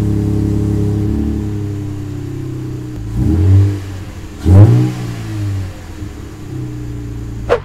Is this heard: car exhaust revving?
yes